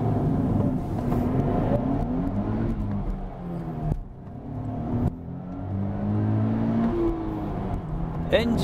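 Nissan Fairlady Z sports car with a manual gearbox, its engine revving and pulling through the rise and fall of the revs, heard from inside the car, with someone talking over it.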